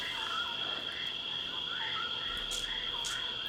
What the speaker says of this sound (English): she does hear some heavy croaking. Giant frog.